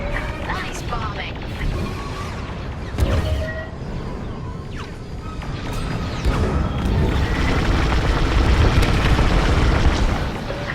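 Bombing explosions and crashing debris as a communications dish is destroyed during a Star Wars Squadrons space battle, a dense continuous rumble with sharper booms, heard under talk.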